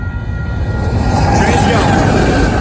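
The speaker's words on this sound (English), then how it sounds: "This crossing has just activated. And a train is coming." A Union Pacific freight train rumbles loudly and steadily past an activated crossing in Willcox, Arizona, its low-frequency roar sustained throughout, with faint horn-like tones near the start.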